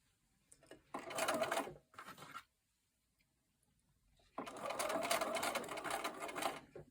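Sewing machine stitching fabric pieces of a five-pointed star quilt block, two close bursts of rapid mechanical whirring separated by a quiet pause, including a few backstitches.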